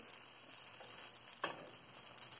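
Jackfruit dosa batter frying in a greased pan, a soft, steady sizzle with faint crackle that runs quietly throughout, broken by one brief tap near the middle.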